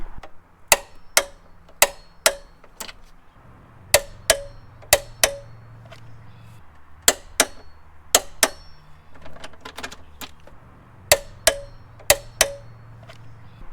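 Crisp ratcheting clicks from a torque wrench tightening 13mm strut tower brace nuts on a Subaru Impreza, arriving in short bursts of sharp ticks with brief pauses between sets, close and otherwise quiet.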